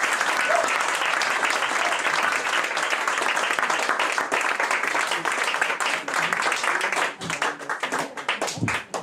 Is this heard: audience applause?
yes